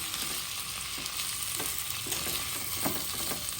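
Steamed stuffed green chillies are stirred and turned in hot tempered oil, giving a steady close sizzle with scraping and clinking of the stirring spoon at irregular moments, and no voices.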